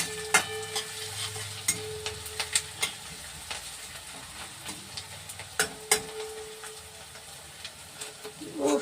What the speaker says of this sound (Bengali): এবার আমি রসুনটা দিয়ে দেব এবার রসুনটা একটু ভেজে ওর